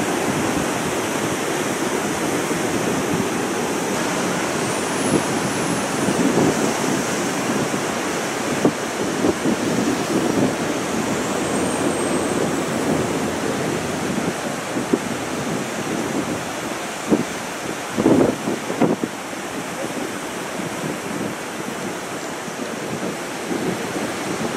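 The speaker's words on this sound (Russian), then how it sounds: "Вот такой он океан в Пуэрто-де-Ла-Крус." Ocean surf breaking along the shore at Puerto de la Cruz, Tenerife: a loud, continuous roar of waves with steady wind buffeting the microphone and no voices.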